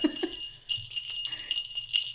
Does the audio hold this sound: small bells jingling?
yes